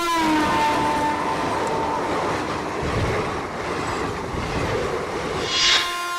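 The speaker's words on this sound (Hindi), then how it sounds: "4 मालगाड़ियों को जोड़कर 3 किलोमीटर लंबी ट्रेन" A 3 km long freight train called Sheshnaag, made of four goods trains joined together, rolls past loudly with a steady rumble of wagons, some wheel squeal and clatter throughout.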